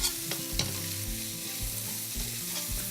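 Onions sizzle and fry in a hot pan while being stirred, with scraping strokes and bursts of crackling over a constant hiss, close up and with no talk.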